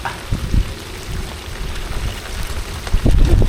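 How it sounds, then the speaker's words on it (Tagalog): A loud, steady wash of heavy rain pours down on a handline sardine fishing boat, with low buffeting thumps that swell near the end; no one speaks. "Kusog na yung ulan."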